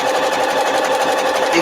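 A home sewing machine runs a tight satin stitch through several layers of fabric, a steady close-up motor whir with fast, even needle chatter that holds at one level throughout.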